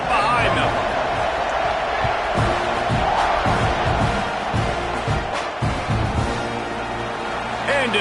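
Football stadium crowd at a Baylor college game roaring before a kickoff, a loud sustained wall of cheering with thumps and whoops, with commentary heard over it.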